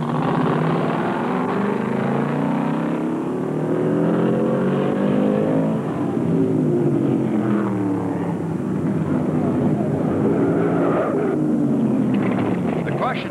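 NASCAR stock cars, including a Chevrolet, roar around the half-mile Martinsville Speedway at the 1975 Virginia 500, engines droning steadily with rising and falling pitches as cars pass, under continuous talk.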